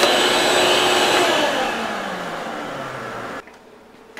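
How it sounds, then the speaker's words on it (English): A 5-horsepower vacuum roars steadily up close, its whine slowly dropping in pitch as it winds down, then cuts off near the end, leaving a quiet room. "If I ran this vacuum, 5-horsepower vacuum"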